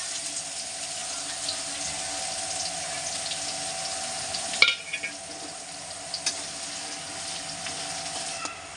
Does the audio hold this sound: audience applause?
no